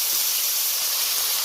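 Small cut pieces of fish head sizzle in hot oil, a steady close, loud hiss of frying with no pauses and no voices.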